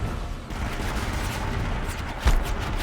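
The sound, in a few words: enemy firing rockets in the video game Horizon Zero Dawn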